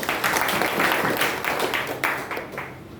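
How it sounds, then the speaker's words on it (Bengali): Audience at an office health talk clapping together, a loud burst of mixed handclaps that gradually thins and fades over a few seconds. "জোরে একটা হাততালি চাই।"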